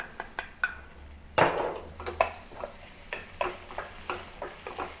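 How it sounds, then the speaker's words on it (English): Garlic and the white parts of scallion fry in hot oil in a skillet, a soft continuous sizzle broken by repeated spatula scrapes and taps on the pan, near and steady with no speech. "Now heat some oil in a skillet and add the garlic and also the white section of the scallion."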